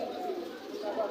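Pigeons at the Mirpur 1 pigeon market in Dhaka cooing steadily through busy crowd noise, with a continuous murmur of bird calls rather than distinct single coos.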